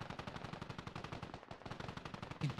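Rapid machine-gun fire aimed at an MTLB armored vehicle in a military video game, a steady fast string of shots running throughout with a slight pause midway, close and loud.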